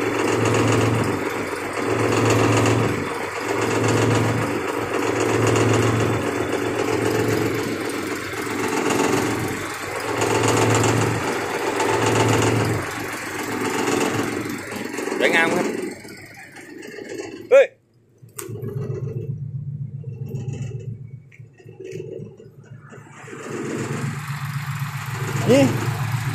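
An Isuzu NPR truck idles with a newly fitted, loud aftermarket exhaust, a steady low rumble with a pulsing beat that drops briefly after a sharp knock, then resumes under faint voices.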